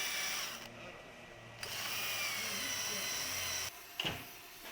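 A rotary wire brush on a power tool scrubs the intake manifold of a Fiat Doblo 1.3 engine, a loud close high whine that stops and restarts in bursts with rough scraping underneath.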